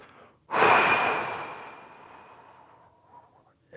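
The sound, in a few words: person exhaling fully during breathing exercise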